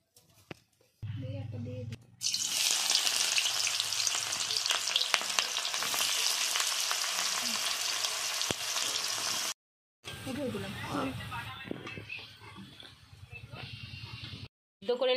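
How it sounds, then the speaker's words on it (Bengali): Onions fry in white oil in a wok, a steady loud sizzle running for several seconds between short quiet gaps, with a brief break and then a softer return of crackling. "কড়াইতে সাদা তেল দিয়ে দিলাম। এবার ব্রেস্তার জন্য পেঁয়াজগুলো ভেজে নেব।"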